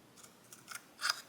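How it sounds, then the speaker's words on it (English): Scissors snipping the plastic tab of a model missile pod, four or five quick, crisp cuts close by in a quiet room, the last one loudest. "I'm going to trim it so it's not such a big tab"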